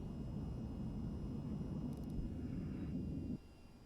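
A jet aircraft engine roaring with afterburner in the VTOL VR flight game, a steady low rumbling thrust that drops off abruptly near the end, fairly quiet overall, with no talk.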